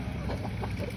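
Chickens, among them an Indian crossbreed, cluck softly while eating greens in a backyard coop, a brief burst of murmuring calls over a dense, noisy background.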